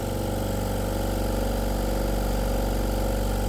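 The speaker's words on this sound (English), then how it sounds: "So we're going to watch the compressor pump up to about 100 psi here." A budget air compressor runs continuously as it pumps up to about 100 psi, a loud, even, droning hum with no pauses.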